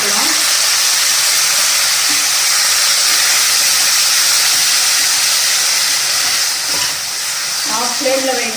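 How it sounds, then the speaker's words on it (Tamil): Ground paste of big onion, ginger, garlic and cardamom sizzles steadily in hot oil, a loud continuous frying hiss that runs throughout, with a voice talking briefly near the end. "பெரிய வெங்காயம், இஞ்சி, பூண்டு, ஏலக்காய் அரைச்ச இதை போட்டுக்கலாம்."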